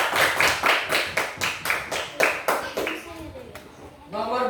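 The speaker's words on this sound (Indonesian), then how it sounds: "Tepuk tangan buat Tirta." Small group of students clapping in a classroom for a classmate, about ten sharp claps in a steady rhythm that fade out, with children's voices talking over the final moments.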